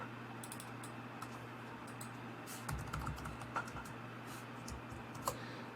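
Quick clicks of typing on a computer keyboard, soft and close, a steady run of keystrokes over a constant low hum.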